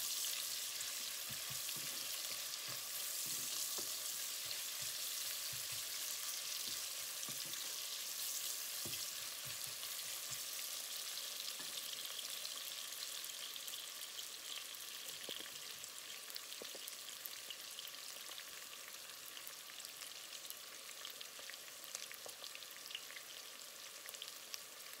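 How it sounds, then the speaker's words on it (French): Onions sizzle and fry steadily over low heat, a soft, continuous crackle with scattered pops and occasional stirring clicks, close and unaccompanied by talk. "You need to fry the onions in low heat."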